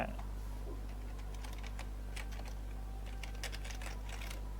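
Someone types on a computer keyboard during database coding, with soft irregular key clicks in a quick run, faint and close over a steady low electrical hum.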